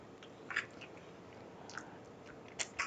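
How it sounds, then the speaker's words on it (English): Someone bites into crunchy meringue cake with whipped cream, making a few soft, close crunches and chewing sounds against quiet background. "So that crunchiness is the meringue."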